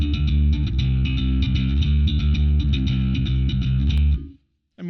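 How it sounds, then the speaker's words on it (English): A bass runs through a distortion preset on an MX5 effects unit, playing a steady line of repeated, buzzy sustained notes. The gritty tone holds at a loud, even level, then cuts off abruptly near the end. "It also has a distortion on here."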